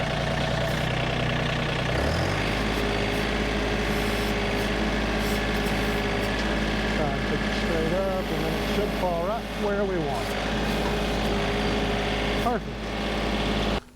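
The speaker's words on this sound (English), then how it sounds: "Now we'll reposition the tractor so we can get it picked back up." A tractor engine idles with a steady low rumble, close by and continuous, with a voice talking over it during log work.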